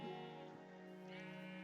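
A Minecraft sheep gives one drawn-out, wavering bleat, faint and alone, holding a buzzy tone for under two seconds.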